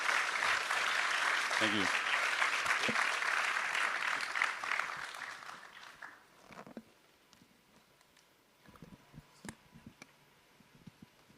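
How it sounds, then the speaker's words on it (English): Applause from the audience at a frENSday 2024 tech conference panel in Bangkok, a full burst of clapping that fades out over about six seconds into a quiet room with scattered claps, footsteps and a brief spoken thanks. "Give our panelists a round of applause."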